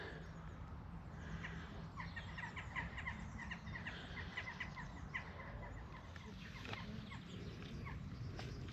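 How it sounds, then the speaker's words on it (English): Springtime birds in Chatsworth Park chirp in scattered short calls at moderate distance over a low outdoor rumble, no one talking. "Absolutely silent, apart from the odd bird chirping away."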